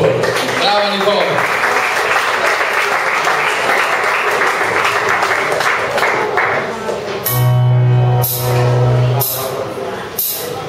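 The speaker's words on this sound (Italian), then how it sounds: "Un applauso Nicole e bocca al lupo" An audience claps for the young singer Nicole after her performance, a steady broadband wash of applause running throughout with brief voices over it and a louder burst near the end.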